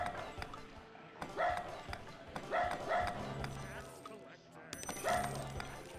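Dogs in the fantasy strategy game Majesty: The Fantasy Kingdom Sim bark in several short bursts spaced across a few seconds, mixed in with busy game sounds.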